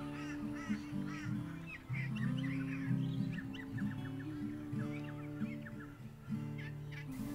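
A male great bowerbird by its twin-walled tunnel bower of twigs and grass gives harsh, honking, churring calls in repeated bursts, close and loud over a steady low background.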